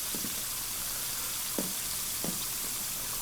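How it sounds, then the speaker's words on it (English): Breaded pieces frying in hot oil give a steady soft sizzle throughout, with a few brief bubbling pops as the oil spatters, no one talking. "They'll fry."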